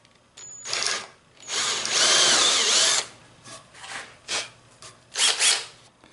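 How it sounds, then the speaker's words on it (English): A power drill whirs in several bursts, boring out a wooden dowel plug in an antique chair, one long steady run followed by shorter stop-start spurts, close and fairly loud. "I'm going to use just a slightly larger drill bit"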